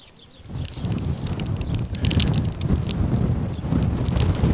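Strong coastal wind buffets the microphone at a low-tide fishing spot, a loud, rough, continuous rumble that swells after the first second and keeps gusting, with no talking.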